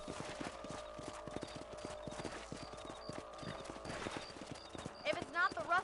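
Horse hooves clip-clop in a steady rhythm in the Western video game Red Dead Redemption, set within dense game ambience and music, with a few brief louder accents near the end.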